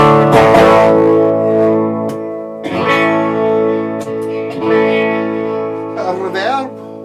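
A 1987 Westone Clipper VI electric guitar with light overdrive strums sustained chords several times, each ringing out with a slightly gritty, effected tone.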